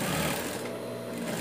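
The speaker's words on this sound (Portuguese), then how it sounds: "Vou costurar na reta o viés pra você ver" A sewing machine stitches bias binding onto a small dog shirt in a straight line, a loud, close, continuous mechanical whir running for the whole short moment with no talking.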